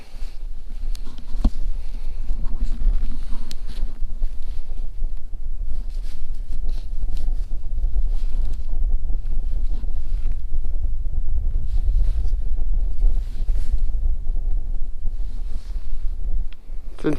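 Wind buffets the microphone aboard a boat on open freshwater during a fishing trip, a steady loud roar with gusting rumble and faint water wash that holds throughout.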